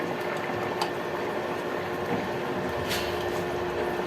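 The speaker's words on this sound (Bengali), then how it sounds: "ঢাকনা তুলে দেখছি এই তো ঝোল ফুটে উঠেছে" Chicken and potato curry simmers in a covered pot, giving a steady, even bubbling hiss that stays constant throughout with no voices.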